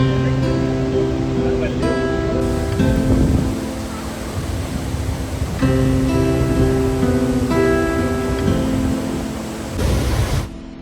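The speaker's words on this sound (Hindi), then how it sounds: "ये वही वाटरफॉल है जहाँ पे आपने बाहुबली मूवी की शूटिंग देखी थी।" A waterfall in Kerala, the filming location of the Baahubali movie, roars as a loud, continuous broadband rush of falling water, with voices talking underneath.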